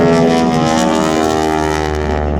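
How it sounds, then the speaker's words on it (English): Propeller tips of a vintage Boeing Stearman biplane's Hamilton Standard blades, a loud, sharp, raspy drone with strong steady harmonics, heard from the ground as the plane passes and slowly fades. "it is the tips of the Hamilton Standard propeller blades"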